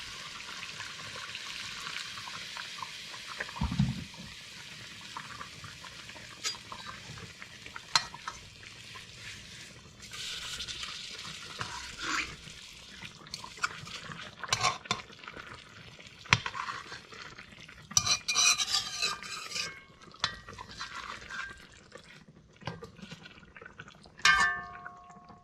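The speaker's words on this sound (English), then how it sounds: "let's give this curry a turn here now." Catfish curry being stirred in a hot pan after water is added, with scraping, sloshing and wet bubbling over a constant sizzle. A few louder clanks of the utensil come through, and nobody speaks.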